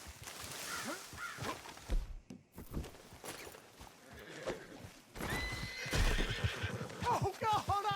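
Horse in Red Dead Redemption 2 neighing and whinnying loudly several times amid clip-clopping hooves, with game voices talking around it.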